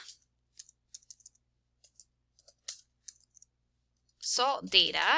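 Sparse, light key clicks tapping irregularly, then a burst of nearby speech takes over at the end.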